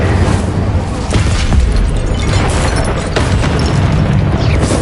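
A fiery Incendio spell blasts out in Hogwarts Legacy, a dense roaring whoosh with rumbling booms and crackling bursts that stay loud and steady throughout, with no talking.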